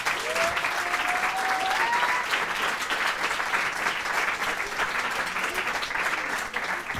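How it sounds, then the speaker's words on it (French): A school audience gives sustained applause for the school's director, steady dense clapping throughout with a brief faint voice near the start. "j'aimerais qu'on applaudisse la directrice qui est là, Anne Bouvet"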